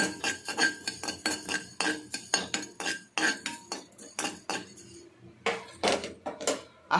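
Coriander seeds are dry-roasted in a pan, with a spatula scraping and clinking against the metal in quick, rhythmic strokes, loud and close, with no talking.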